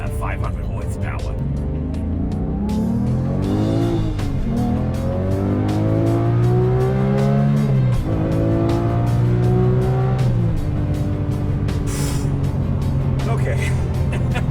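A Porsche 991.2 GT3 Touring's 500-horsepower engine revs hard toward 9,000 RPM, its loud rasping note climbing in rising sweeps through gear changes, with someone talking over the sound.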